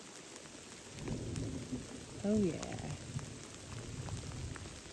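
Light hail coming down in the West Elk Wilderness: a continuous close patter of small pellets with a dull rumble underneath, while a voice speaks briefly partway through.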